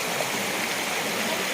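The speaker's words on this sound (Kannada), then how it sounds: "ನೋಡಿ ಎಷ್ಟು ದೊಡ್ಡ ತೋಡ ಅಂತ. ಈಗ ನಿನ್ನೆ ಮಳೆ ಇತ್ತಲ್ಲ, ಆಗ ನೀರು ಫುಲ್ ಆಗಿದೆ" A stream swollen with water after rain rushes steadily and loudly nearby, a continuous broadband flow with no pauses and no voices.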